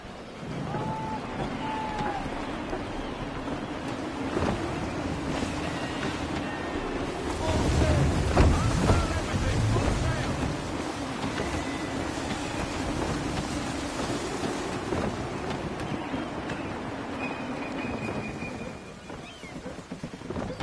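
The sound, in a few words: gusty wind at sea in video game Assassin's Creed III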